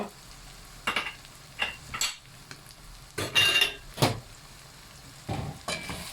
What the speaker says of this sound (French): Je remélange un petit coup.